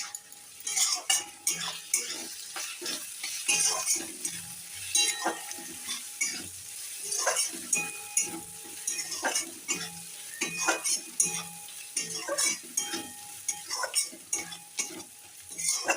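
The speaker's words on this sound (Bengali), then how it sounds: "এবার দেখো মশলাটা ভালো করে কষিয়ে নিচ্ছি আমি" Spice paste with ground cumin is stirred and fried in a pan for a banana blossom ghonto. Busy, irregular scraping and clattering strokes sound close over a steady sizzle for a long stretch, with no talking.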